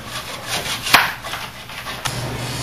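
Rough rubbing and scraping strokes, close and fairly loud, with a couple of sharper knocks, as body filler is hand-sanded on an arcade machine cabinet.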